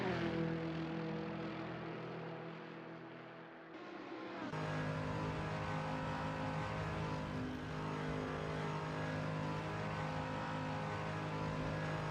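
Race cars in the Gran Turismo video game roar down a straightaway on the Nordschleife, a loud continuous engine drone that drops briefly, then surges back as the cars accelerate.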